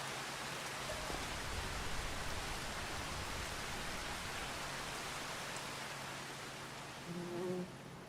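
Rain in Farming Simulator 25 hisses as a steady, even wash of noise with little variation, fairly soft, with a brief faint tonal blip near the end.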